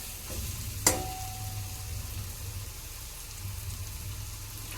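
Dried tendli and dandi fish curry with kokum simmering in a pot, a soft steady bubbling hiss throughout with one sharp clink early on, no voices.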